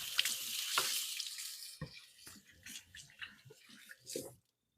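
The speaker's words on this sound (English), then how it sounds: "I'm going to give my hands a quick rinse." Hands rinsed under a running kitchen tap, a close, loud rush of water that breaks up into splashy bursts and trickles before cutting off abruptly.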